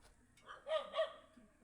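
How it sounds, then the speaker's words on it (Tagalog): A dog barks a few times in quick succession, two or three short, sharp yelps at moderate distance against a quiet background. "Maraming aso."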